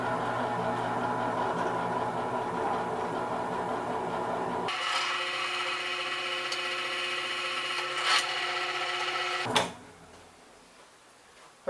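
A power drill fitted with a small bit bores into material while building a fishing wagon beach trailer, first rasping roughly, then whining in a steady pitched tone before stopping abruptly.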